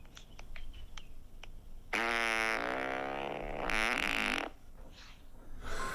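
Long, rasping fart sounds played back through WhatsApp voice notes, one drawn-out buzzing blast lasting a couple of seconds with a few faint ticks before it and quieter noise after.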